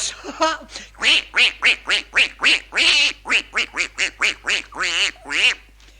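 A voice imitates a duck, quacking in a rapid string of about a dozen nasal calls, loud and close.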